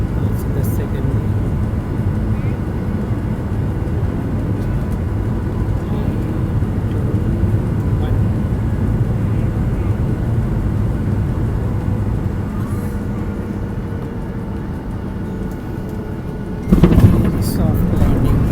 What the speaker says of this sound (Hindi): हम गाइस एकदम लैंड करने ही वाले हैं। बस 5 से 10 सेकेंड में।